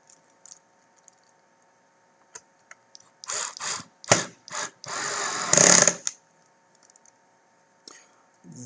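Screws are driven back into the gear cover of a TAO/LX7 main base, with several short, close whirring bursts of a powered screwdriver clustered together amid otherwise quiet background.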